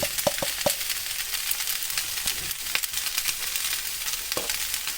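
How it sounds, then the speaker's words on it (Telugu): Pasta sizzling in a hot pan with pasta masala and chili powder, a steady frying crackle with scattered scrapes and clinks of a spoon, close and without talk. "ఈ పాస్తా మసాలా కారం వేసుకొని ఒక 2 మినిట్స్ ఫ్రై చేసుకుంటే సరిపోద్ది."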